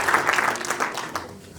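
Wedding guests applauding the master of ceremonies, a short round of clapping under a voice at the start, fading away within about a second and a half.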